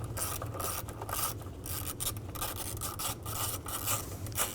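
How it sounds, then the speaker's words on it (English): A ratchet with an 8mm socket loosens a cover bolt on a 2000-06 Chevy Tahoe during water pump replacement, giving a steady run of rapid, close clicking and rasping strokes. "I'm going to remove this cover using an 8mm socket."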